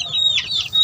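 Chickens clucking at feeding time on a farm, a short burst of high bright clucks and squawks, close and clear with no talk.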